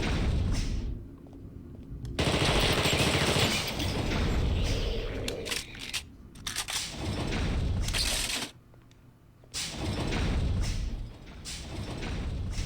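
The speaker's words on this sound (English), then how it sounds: "Explosion." Explosions in The Thing: Remastered video game boom loudly in repeated bursts, with heavy rumbling blasts separated by brief quieter gaps.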